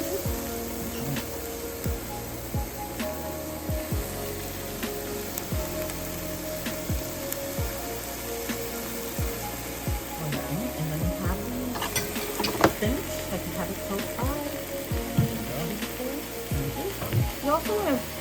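Onions for an omelette sizzle in a frying pan, a steady close crackling hiss with frequent clicks and scrapes of a utensil moving them around.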